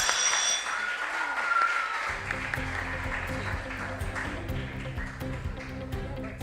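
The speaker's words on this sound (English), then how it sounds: "can we give them another resounding round of applause?" An audience at a junior science and maths quiz contest in the Ashanti Region gives a round of applause, a short dense burst of clapping that gives way to ringing tonal sounds and faint background noise.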